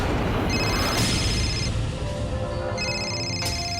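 A telephone rings in an Indian TV drama scene, its electronic ring sounding in repeated bright bursts over a steady, loud background, with no speech.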